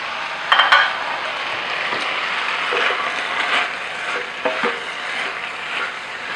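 Minced pork hits a hot pan with vegan Szechuan green beans and is stirred, giving a steady close sizzle with a few sharp scrapes and knocks of the utensil against the pan.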